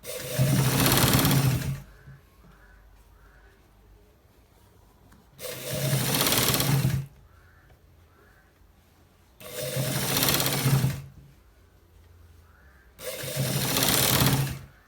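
Sewing machine stitching a shirt to its end, four separate bursts of close mechanical whirring, each a second or two long, with quiet gaps and faint background sounds between them.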